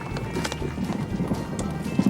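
A horse pulling the Impulsoria horse-powered train clops its hooves in an irregular string of close, muffled beats over a low rumble.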